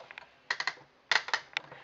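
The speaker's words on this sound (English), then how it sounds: "we're just going to run it through the Big Shot. And you hear the cracks" A Big Shot die-cutting machine is cranked to cut a card, producing clusters of sharp cracking and snapping clicks in quick bursts, close and fairly loud, with quiet between the groups.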